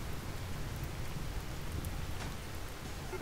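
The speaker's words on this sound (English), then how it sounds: "And it's raining and there's fire." Steady, dense rainfall in the video game RimWorld, a continuous even hiss of drops with no breaks and no voices.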